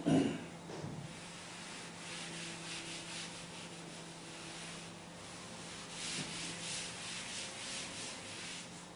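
Steady scratchy rubbing of an eraser wiping a simplification off a board in a maths lecture on matrices, with repeated brisk strokes throughout and no talk.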